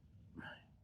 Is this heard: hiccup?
yes